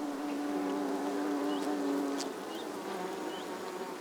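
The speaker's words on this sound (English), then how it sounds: "the dedicated worker bees are busy passing the nectar" A steady, dense hum of many honey bees buzzing together inside a hive, constant and close, with occasional individual buzzes passing near.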